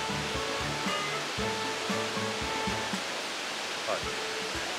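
A waterfall in Ibaraki Prefecture, Japan, heard as a broad steady rush of falling water, with someone speaking over it throughout.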